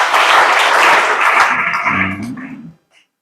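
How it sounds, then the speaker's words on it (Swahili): Applause from the audience at a seminary graduation ceremony for fourth-year theology students at Kipalapala Seminary, a loud burst of clapping that fades out over a few seconds with a voice briefly audible near the end. "Naomba tujipigie makofi jamani."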